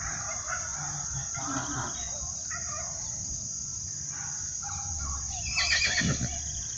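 A young foal neighs in a farmyard, a loud whinny rising near the end over a steady background of rooster crowing and clucking fowl.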